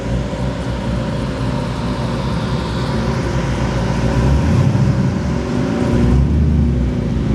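A Chevrolet Impala rolls past at a cars and coffee meet, its engine a steady mid-loud hum that swells briefly as it passes, amid general roadway and crowd ambience.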